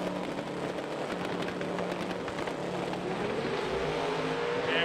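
A turbocharged C6 race car with independent rear suspension makes a quarter-mile drag run, its engine a steady distant roar under crowd and track ambience, no talking.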